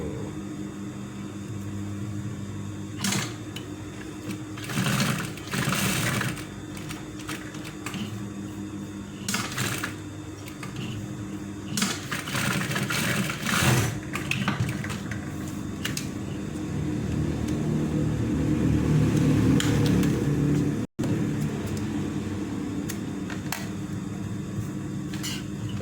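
A sewing machine stitches the button placket of a polo shirt, its motor whirring in intermittent runs of varying length that build into a longer steady stretch near the end.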